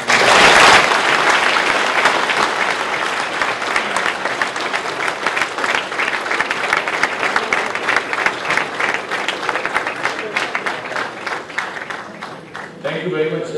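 Sustained audience applause after a motivational address at a young entrepreneurs' meet, loud and dense clapping filling the room throughout before thinning slightly at the end.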